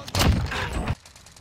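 Gunfire in the video game Call of Duty: Warzone, a loud, dense burst of shots lasting under a second that cuts off abruptly, leaving a quiet background.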